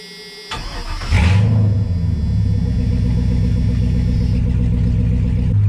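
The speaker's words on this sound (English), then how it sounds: "So let's start her up and see how many horsepower she's got now." A car engine fresh from an oil change cranks briefly, catches and settles into a loud, steady idle with a rhythmic low throb, heard alone.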